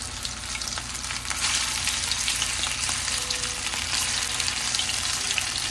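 Tuna fish kebabs, shaped into rounds, fry on a hot tawa with a steady, close broadband sizzle that swells slightly after the first second and holds without pause.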